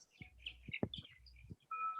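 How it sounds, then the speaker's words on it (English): A group of starlings gives faint, brief chirps and tweets close together, quiet and sparse, with a low rumble underneath. "Oh boy, whole group of starlings."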